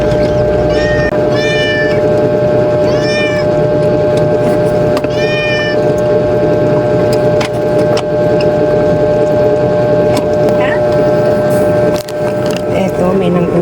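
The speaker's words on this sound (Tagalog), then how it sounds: "Eto, may nanggugulang pusa." A cat meows several times in a busy indoor setting, its clear rising calls standing out over a steady hum and background chatter, with a louder burst of meowing in the first half and fainter calls later.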